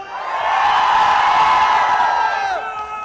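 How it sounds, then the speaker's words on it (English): Live audience at an esports LAN tournament cheering and whooping for a team, a loud sustained roar of crowd noise that swells and then fades near the end. "Can I have some noise for Enigma?"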